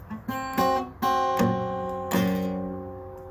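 Guitar playing a song with palm-muted, percussive bass on the bottom string: a few strummed chord hits in a slow rhythm, each ringing briefly, close and moderately loud, no talking.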